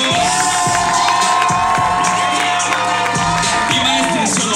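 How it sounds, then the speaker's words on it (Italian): A live audience at a Los Rumberos dance school show cheers, whoops and applauds loudly and continuously, with high children's shouts and steady tones running underneath the crowd. "intanto cominciamo con un applauso per Los Rumberos"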